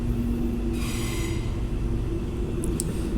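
An Auckland Western Line commuter train pulls out of the station, giving a steady, close rumble throughout with a brief brighter hiss partway through and faint high squeaks near the end.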